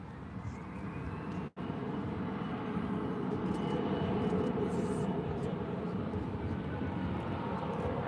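A fixed-wing airliner taking off from runway 18 Left at Dallas/Fort Worth airport: a continuous loud broadband engine roar holds steady throughout, with a brief dropout near the start, heard from nearby with no clear talking.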